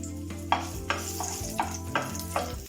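Dried chillies and mustard seeds fry in hot ghee in a pan, a constant loud sizzle broken by regular scraping strokes of a spoon, close and with no talk.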